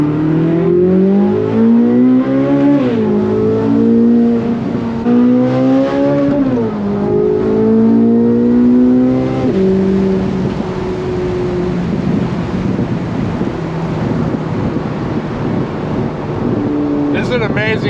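A 2023 Chevrolet Corvette Z06 accelerating hard at high RPM, its engine note climbing through several rising sweeps with shifts in between, then settling into a broad, loud roar mixed with wind and road noise.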